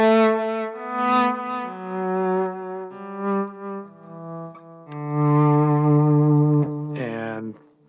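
Electric guitar through a Fractal Audio FM3 modeler on a vintage lead preset plays sustained, singing distorted notes with smooth legato movement and a short flourish near the end, loud and upfront with light ambience.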